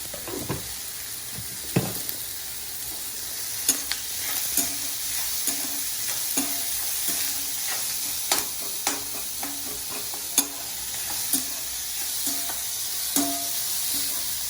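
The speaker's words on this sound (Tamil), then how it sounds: "வெங்காயம் நல்லா வதங்கி இருக்கும்." Onions with a little salt sautéing in a pan, a constant sizzle broken by frequent sharp scrapes and clicks of a spatula stirring at irregular intervals; close and alone, no talking.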